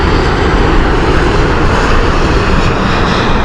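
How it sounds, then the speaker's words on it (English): Cyprus Airways Airbus A319 at Heathrow Airport, a loud, close, continuous jet engine roar with broad rushing noise and no break, no voices over it. "I have an absolute special place in my heart for an Airbus A319 of Cyprus"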